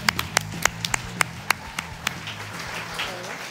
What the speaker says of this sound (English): Applause for EDM.